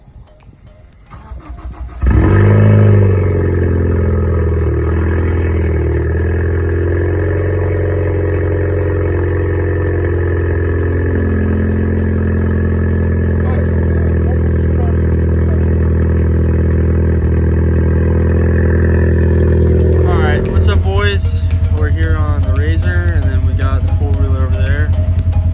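A Ford Focus ST with a straight-pipe exhaust cold-starts loudly, the engine catching abruptly and settling into a steady, booming high idle that runs on for many seconds before revving, with voices talking nearby.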